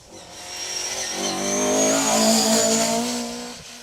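A rally car on an asphalt stage passes the finish of Rally Ceredigion, its engine note swelling loud as it approaches, peaking, then fading away over a few seconds, with no talk.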